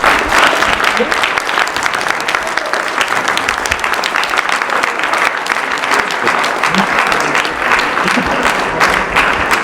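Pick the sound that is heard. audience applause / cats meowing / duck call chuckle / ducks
audience applause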